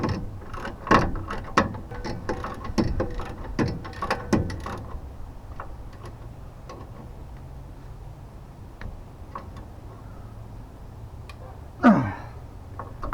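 A ratchet wrench clicks in quick, rhythmic bursts as it tightens a stiff bolt during a ball joint replacement on a 2002 Dodge Ram 2500 2WD truck. The close clicking fills the first few seconds, then things go quiet apart from a single later clatter.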